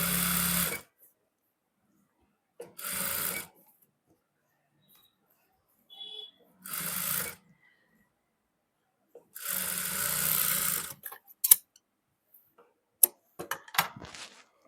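Sewing machine stitching a border onto an Afghani salwar, heard as short, quiet bursts of stitching separated by silences, followed by a few scattered clicks near the end.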